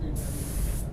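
Iwata WS400 spray gun dusting a light first coat of base paint onto a van, a steady close hiss of atomized spray that starts abruptly and runs continuously.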